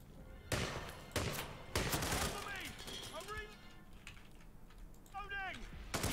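Several sharp gunshots in the video game Hitman ring out a second or so apart, with quieter electronic chirps and whistles in the gaps between them.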